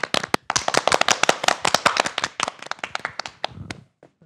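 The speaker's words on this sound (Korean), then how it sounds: "이야기를 박수로 청해 듣도록 하겠습니다" A studio audience on a Korean morning TV program claps in a dense burst of sharp hand claps, loud and close, thinning to a few scattered claps before stopping.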